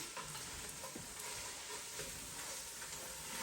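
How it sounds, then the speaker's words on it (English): Onions frying in a pan, a steady close sizzle with a few soft stirring scrapes, continuous and even throughout with no voices. "let's check our onions. They are cooking"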